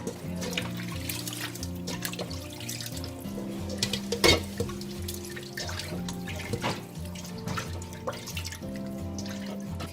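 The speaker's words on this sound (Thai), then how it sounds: "ใส่น้ำหน่อยค่ะ เราจะล้างค่ะ" Water runs and splashes while pork skin for cracklings is rinsed by hand in a bowl, a close, steady trickle broken by drips, sloshes and small knocks, with no talking.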